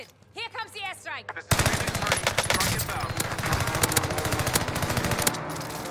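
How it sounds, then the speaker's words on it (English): Airstrike in Call of Duty Warzone, a loud continuous burst of rapid explosions and gunfire that erupts suddenly after a brief spoken call and rumbles on for several seconds. "Target's painted. Here comes the airstrike."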